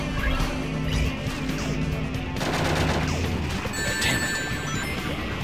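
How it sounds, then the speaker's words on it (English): Rapid gunfire in the video game Shadow the Hedgehog at the Ark's power plant, dense repeated shots and crashing impacts over game music, loud and continuous. "Yeah, shooting my way through everything"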